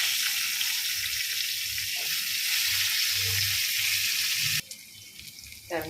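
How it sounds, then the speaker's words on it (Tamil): Small shallots fry in oil in a pan for a spicy Tamil kuzhambu, making a loud, even sizzle close to the microphone, with faint stirring knocks before the frying sound abruptly drops away near the end. "நல்லா எண்ணெயிலே வதக்கிக்கணும்."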